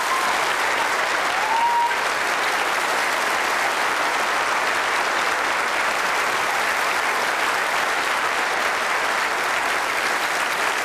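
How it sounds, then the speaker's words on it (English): Dense, continuous audience applause at a 1988 talent contest final fills the hall evenly for about eleven seconds, with a brief whistle near the start and no talk. "give them a round of applause for their efforts"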